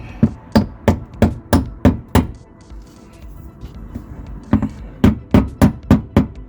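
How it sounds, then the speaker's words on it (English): Mud flap clip centres being tapped into the wheel arch of a Ford Grand C-MAX: a close, loud run of sharp, evenly spaced taps, a brief pause, then another quick series of taps. "then you just tap these centres in"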